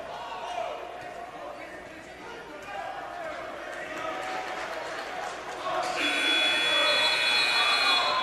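A loud, sustained electronic game-ending buzzer sounds over crowd noise in a men's college basketball arena, cutting in near the end and holding steady.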